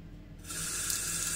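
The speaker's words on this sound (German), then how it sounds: "Was bitte ist das für ein Wasserhahn?" Water gushes steadily from an unusual tap in a hotel bathroom, a close, broad hissing rush that swells after a brief quieter start and continues unbroken.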